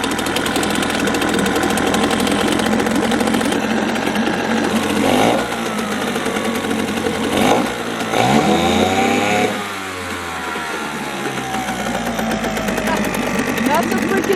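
A two-stroke outboard boat motor runs close and loud with a buzzing, rattling putter, its pitch shifting and dipping in several places, voices heard over it.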